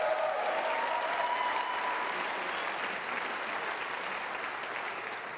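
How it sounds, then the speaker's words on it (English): Sustained audience applause fills the hall at an awards ceremony in Wales, a steady, dense wash of clapping from a large crowd that holds evenly throughout without any speech. "Yes, please applaud."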